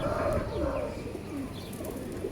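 A pet pigeon, bought with torn wing feathers, coos softly and repeatedly at close range over a low background murmur, with no one talking.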